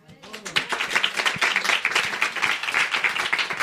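A live audience at a podcast episode recording applauds continuously, dense clapping that starts quickly and holds steady at a fairly loud level throughout.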